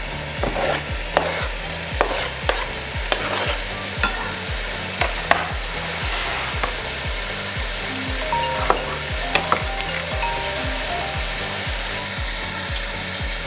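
Chopped onion and shallot sizzle loudly in a pan for chili con carne, with a steady, regular scraping as a utensil stirs them over and over, close and without talk.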